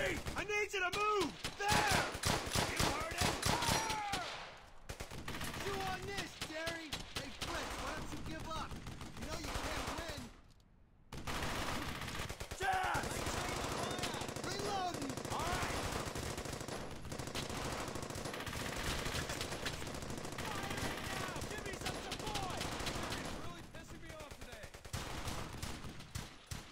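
Sustained bursts of machine-gun and rifle fire from a World War II squad-combat shooter, rapid, loud and close, with a brief lull near the middle before the fusillade resumes.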